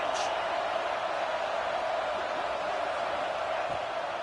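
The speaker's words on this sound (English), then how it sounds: "this crowd is at fever pitch." Steady broadband roar of a packed stadium crowd at fever pitch during a third-down red-zone play in the College Football 26 video game, a continuous dense wash with no talk over it.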